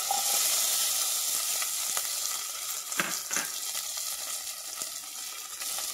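Onions and curry leaves fry in a hot pan for an egg kuruma, giving a steady, close sizzle with soft crackles and a few stirring clicks throughout, with no talking.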